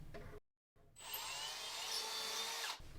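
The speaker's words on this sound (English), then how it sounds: "now we will complete the hole by drilling through on this side" A power drill bores steadily through a wooden door for about two seconds after a short pause, its high whine and grinding rasp loud and close.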